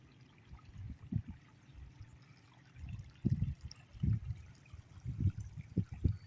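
Floodwater left by Typhoon Carina runs steadily through once-cracked ground. A low, continuous churning rushes in uneven surges, close and fairly quiet, with no talking.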